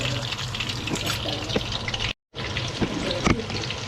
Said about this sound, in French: on a rajouté de l'eau pour que ça soit bien liquide la sauce